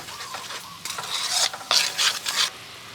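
Duck pieces are stirred in a hot pan, with scraping, clattering strokes of the utensil coming in bursts over a continuous sizzle of frying, close and fairly loud.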